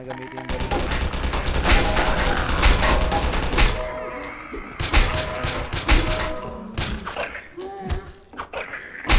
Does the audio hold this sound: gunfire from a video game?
yes